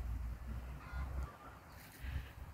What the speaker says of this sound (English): I hear some chickens